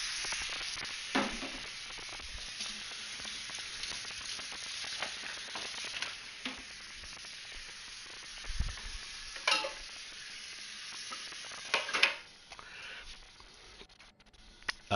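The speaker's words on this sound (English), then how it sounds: "I'm gonna let it sizzle for like in the grill for about, you know, 5-10 minutes aside." Food sizzling and frying on a grill over a fire, a steady crackling hiss that runs throughout with a few sharper pops and clicks, fairly faint and with no talking.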